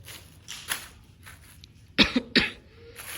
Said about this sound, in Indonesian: Batuk guys, usum waduh.